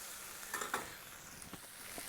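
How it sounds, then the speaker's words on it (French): Finely diced onions caramelize in a pan, a soft, steady sizzle with scattered small crackles and pops, faint and close, with no talking. "mes oignons sont en train de bien caraméliser"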